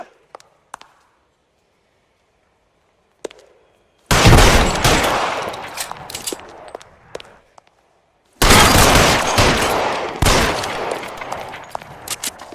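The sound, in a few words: gunfire in the video game L.A. Noire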